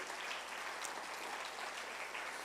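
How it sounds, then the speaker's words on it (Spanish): A church congregation applauding, a dense, steady wash of many hands clapping together with no breaks, filling the room evenly at moderate loudness. "Yo le daría un fuerte aplauso al Señor Jesús."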